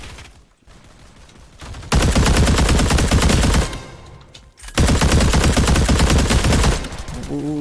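Automatic gunfire in the video game Roblox, two long, loud bursts of rapid shots separated by a short pause, with quieter game noise between them.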